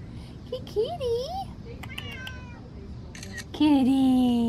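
A black cat gives several rising and falling meows close by, with a longer, louder meow near the end, while a person speaks softly to it in between.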